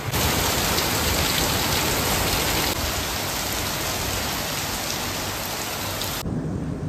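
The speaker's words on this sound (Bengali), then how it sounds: "ঝমঝম করে যেটাকে বৃষ্টি বলে, সেরকম ঝমঝম করে বৃষ্টি হচ্ছে।" Heavy rain pours outside in the dark, a loud dense unbroken hiss of downpour that cuts off abruptly near the end.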